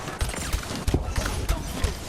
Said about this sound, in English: Basically you fire this tracker grenade